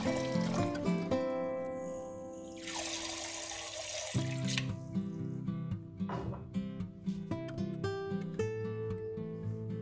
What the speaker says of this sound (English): I fill a big pot of water